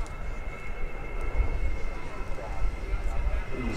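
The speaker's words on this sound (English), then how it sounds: "The C-5 Galaxy." A C-5 Galaxy military transport aircraft flies by at the Great New England Airshow, a steady deep engine roar with broad rumbling low end and a high whine, while a commentator talks over it.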